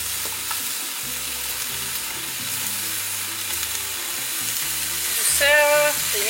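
Vegetables and apple for a squash soup sauté in a pot with a steady close sizzle, and a louder stir near the end.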